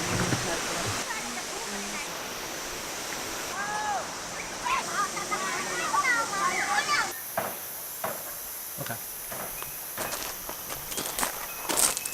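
The steady rushing hiss of the Bousra waterfall in Mondulkiri Province, Cambodia, runs throughout. Footsteps and occasional voices sit over it, and the scene turns noisier partway through.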